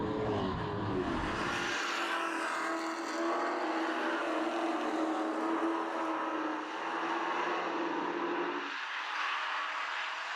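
Race trucks circle a short speedway track at a series season opener, their engines giving a continuous loud roar. One engine note rises and then drops away as the trucks sweep past.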